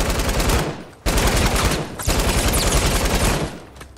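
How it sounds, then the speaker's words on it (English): Loud, sustained automatic gunfire in the video game Fortnite, with rapid bursts filling the whole stretch and broken by a couple of brief pauses between strings of shots. "I'm shooting his friend."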